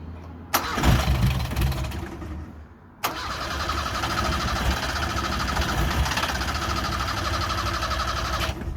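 A Toyota KE70 car engine cranks, catches and then settles into a steady rough idle up close after a second start attempt, with no talking.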